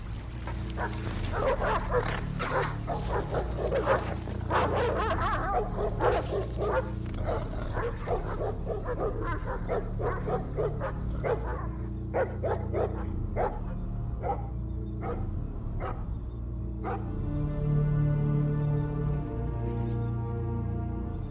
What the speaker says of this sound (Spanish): Sonaron ladridos de perros a lo lejos.